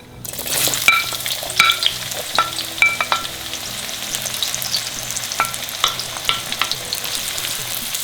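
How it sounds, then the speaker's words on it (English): Onions sizzling in hot oil in a frying pan for an Indian mixed vegetable parwal dish, a steady close crackle with repeated scraping and stirring knocks and spatula clicks throughout. "Now you fry the onions till they're golden color."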